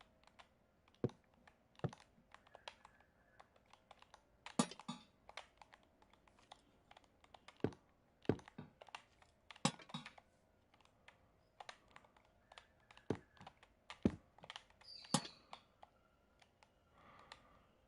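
Fast typing on a computer keyboard, with bursts of crisp, close key clicks and brief irregular pauses against a quiet background.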